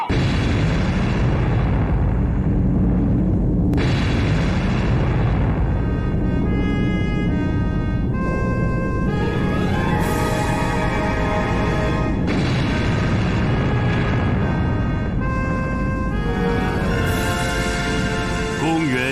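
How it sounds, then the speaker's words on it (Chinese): A dramatized detonation of China's first atomic bomb in a 1964 desert test, heard as repeated deep rumbling booms and bursts under swelling tonal music, with a voice speaking over parts of it. "1964年10月16日15时，中国第1颗原子弹爆发出惊天动地的巨响"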